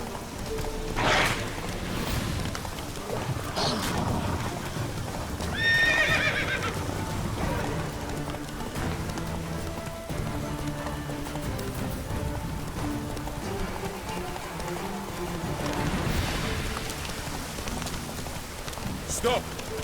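Roach, a horse in a video game, galloping and whinnying, with repeated neighs over clip-clopping hooves and a rain-like wash, under game music with brief bits of voice.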